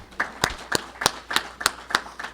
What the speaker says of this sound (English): Chloe, please stand up so we give you a round of applause.